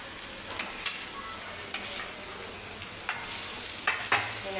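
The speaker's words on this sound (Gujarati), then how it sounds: "એને આપણે થોડી વાર સાંતળી લઈશું." Chopped vegetables sautéing in a pan for a roti roll, a steady soft sizzle with occasional louder stirring scrapes and clinks, close and moderate in level, no talking.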